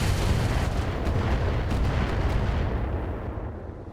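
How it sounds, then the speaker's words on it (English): Energy weapons fire in a video game battle as a dense, loud barrage of booming blasts that runs continuously and tapers off toward the end. "Fire them energy weapons."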